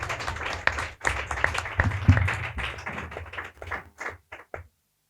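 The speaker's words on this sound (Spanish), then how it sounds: "A las dos y el aplauso para vosotros." Audience applause follows a tribute to two guests, a dense burst of clapping that thins into a few scattered claps and then fades out.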